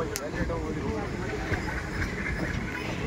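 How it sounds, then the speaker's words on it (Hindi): A train pulls into platform 1 at Partur railway station on the Jalna–Partur line, a steady, continuous rumble with wind noise over the microphone and no clear speech. "देख सकते हैं हमारी ट्रेन परतूर रेलवे स्टेशन के प्लेटफॉर्म नंबर 1 में एंटर हो रही है"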